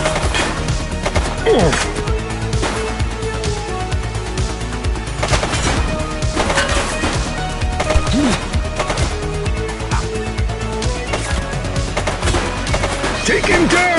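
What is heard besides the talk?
gunfire from a shooter in a police video game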